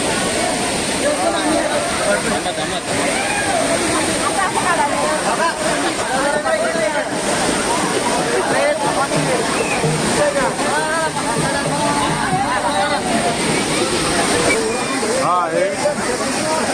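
A loud, constant roar of the Amboli waterfall fills the clip, with a crowd chattering indistinctly underneath.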